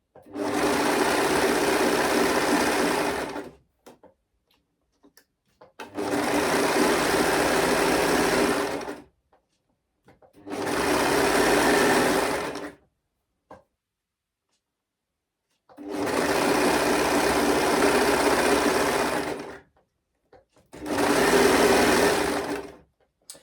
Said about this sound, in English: So I'm just going to quickly do that now. It will be noisy